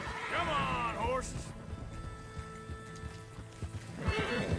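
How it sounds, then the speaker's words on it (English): Horses whinny and neigh with hooves clip-clopping in the Red Dead Redemption 2 video game, a loud whinny at the start and again near the end over steady hoof beats, with someone talking. "Come on, horses."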